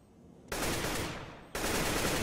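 Sustained automatic AK rifle fire in a Counter-Strike match, two loud, dense full-auto bursts separated by a brief dip, close and harsh, with no voices.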